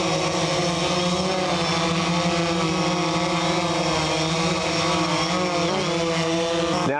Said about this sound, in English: Now if I push the left joystick to the right, the drone's going to spin.